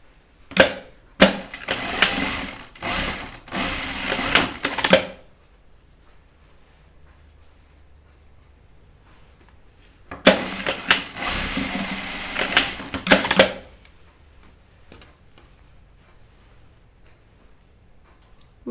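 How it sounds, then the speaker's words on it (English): A sewing machine stitching fabric strips together for a dog coat: two long runs of rapid, close mechanical stitching, one about five seconds and one about three, with quiet gaps between them. "Just gonna sew them together now."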